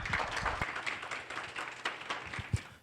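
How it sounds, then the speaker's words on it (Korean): Faint, distant applause from an audience welcoming a speaker at a university lecture event, a steady patter of many hands clapping with a few sharper claps standing out. "힘찬 박수로 맞이해 주세요"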